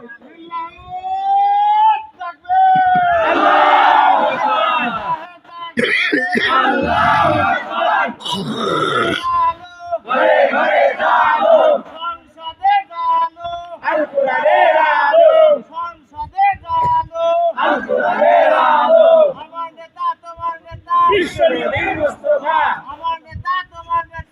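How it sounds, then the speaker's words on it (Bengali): A loud chanting voice leads rhythmic takbir calls at a Bangla waz mahfil gathering, rising and falling in repeated phrases with brief pauses between. "ভালো করে তাকবীর দাও তো দেখি"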